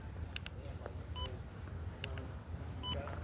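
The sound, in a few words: beep from a camera gimbal button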